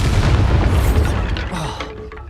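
A Bombarda spell explodes in Hogwarts Legacy with a loud, deep boom that rumbles and slowly fades over a couple of seconds, with no voices.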